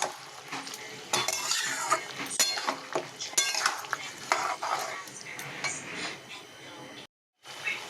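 Peas being stirred into a tomato curry in a kadai, with metallic spatula scrapes and clinks against the pan over a light sizzle, irregular and close, briefly dropping to silence near the end.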